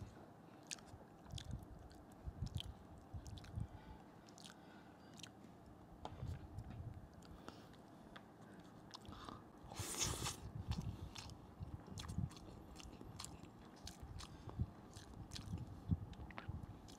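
Close-up chewing of spicy Indonesian grilled beef with rice and sambal, soft repeated bites and wet mastication sounds at low level, with a brief louder rustle near the middle.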